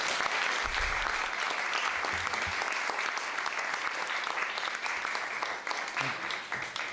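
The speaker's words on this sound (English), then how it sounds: "Let's give our panel a round of applause." Audience at a congressional panel on head injuries applauding, a steady, dense clapping that holds evenly for several seconds before starting to thin, with no voices over it.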